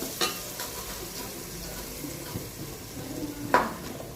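Spices such as chilli, turmeric, salt and garam masala frying in a pan for Gujarati vagharela bhat, a soft steady sizzle with occasional stirring scrapes, fairly quiet throughout.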